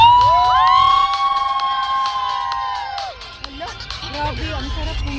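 Crowd at a Singapore New Year 2024 countdown fireworks show erupts in loud cheering and shouting, a whistling rising tone sweeping over the roar before it settles into scattered voices and chatter.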